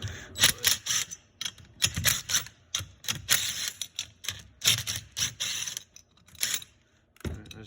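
An impact wrench fitted with a 14 mm socket works the nuts off a bicycle engine, firing short, loud hammering rattles in quick repeated bursts separated by brief pauses, close to the listener.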